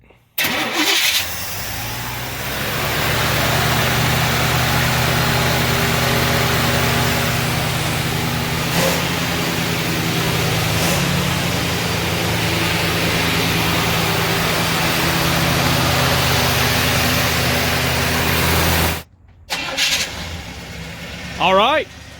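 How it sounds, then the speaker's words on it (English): A 1966 Chevrolet Impala with a 283 V8 starts and settles into a loud, steady idle that rumbles close by for most of the stretch, then cuts off abruptly near the end. "got this 283 in here, putting in some work. Fires up, runs just fine"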